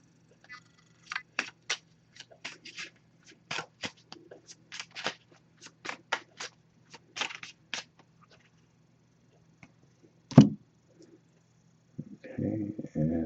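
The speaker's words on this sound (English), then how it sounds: "I'm just going to give this a few shuffles, then we'll cut the deck and pull a card." Soft, quick riffling bursts of cards being shuffled, repeated in short runs, followed by a sharp tap and a brief scrape at the end.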